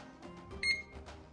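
A single short electronic beep rings out from an electric kettle plugged into a portable solar battery, clear and close, over a quiet background hum.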